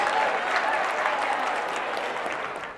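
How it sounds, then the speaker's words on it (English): A crowd at a brand-building talk claps for itself, a dense, even patter of many hands that holds steady and then tapers slightly toward the end. "Clap it up for yourselves and have a seat."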